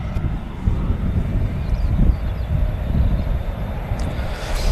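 An Emirates Airbus A380 airliner taxis past at Manchester Airport, a loud, steady low-frequency engine rumble with broadband roar and some wind buffeting on the microphone.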